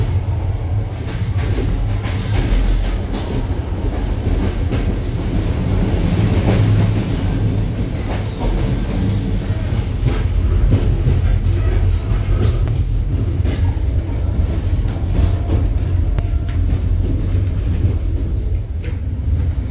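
A train rumbling loudly and continuously along the rails, with a low heavy roar and faint rattling, no voices present.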